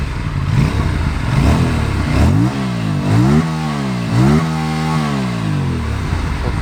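An Aprilia RS 457 sport motorcycle on its stock exhaust revs repeatedly close by, loud throttle blips rising and falling in pitch in several sweeping bursts over a steady idle, with no talking.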